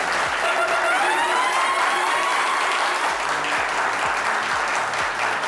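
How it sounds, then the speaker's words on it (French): A studio audience gives sustained, even applause with light cheering, a continuous wash of clapping heard up close without pause. "Est-ce qu'on peut les applaudir, s'il vous plaît?"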